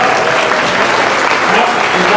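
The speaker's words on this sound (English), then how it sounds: "Give them a great round of applause." An audience at a Virginia community college energy grants press conference gives a round of applause, dense close clapping that fills the whole short stretch without pause.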